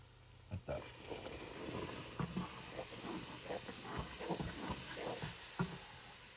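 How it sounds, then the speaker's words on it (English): Steam hisses steadily from something hot being cooked and stirred, a broad continuous hiss with small clatters and brief voices mixed in near the start. "Oh, hot. Steam."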